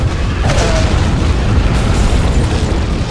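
A grenade explosion in the video game Resident Evil 4 makes a loud, sustained booming blast with a dense roar that fills the whole moment without letting up.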